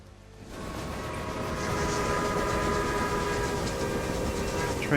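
A train rumbles steadily in the railway management game Railway Empire, swelling from quiet to a sustained rolling drone with faint clicking, and a high tone near the end.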